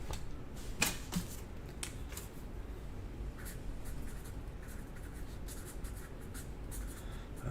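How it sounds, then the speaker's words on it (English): Marker pen scratching a name onto a box, a few short strokes and taps at the start then continuous faint scribbling against low room noise. "let me write your name on here"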